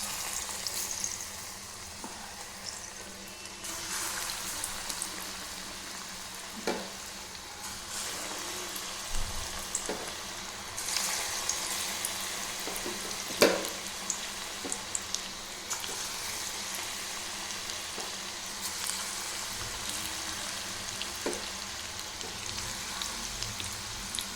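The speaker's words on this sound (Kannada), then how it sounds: "ಇವಾಗ ಎಣ್ಣೆ ಬಿಸಿಯಾಗಿದೆ, ಬಜ್ಜಿಯನ್ನು ಬಿಡಬೇಕು" Bajji fritters fry in hot oil with a continuous close sizzle and bubbling, dotted with sharp crackles and pops and a few clinks or taps, with no voices throughout.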